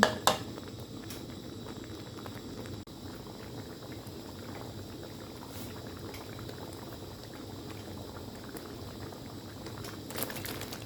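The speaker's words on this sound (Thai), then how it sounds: "จะเคี่ยวพริกให้หอม" Chili paste simmering in a pot for Thai catfish curry, a low continuous bubbling hiss with faint soft pops, a couple of brief utensil clinks near the start and end, no talking.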